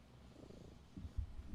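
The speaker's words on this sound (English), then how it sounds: "They want to hear you purr." A cat purrs close to the microphone, a very soft low rumbling that swells slightly toward the end, with no speech.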